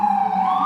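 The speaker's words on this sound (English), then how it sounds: "The ambulance is gone." An ambulance siren on a New York City street, a steady, loud wailing tone that rises slightly in pitch as it passes, with traffic rumble underneath and no talking.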